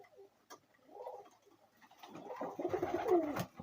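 Flying pigeons of a black (tar-coloured) breed coo softly several times, a few low throaty calls, with a faint knock and some rustling nearby.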